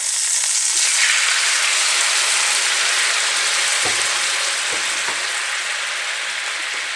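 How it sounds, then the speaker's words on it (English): Steady, loud sizzling from a ladle of pasta water hitting a hot frying pan, a continuous hiss that fills the whole clip with a few faint clinks. "Just a ladle of our pasta water into our frying pan."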